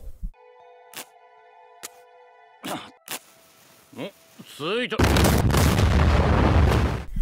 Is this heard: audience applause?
no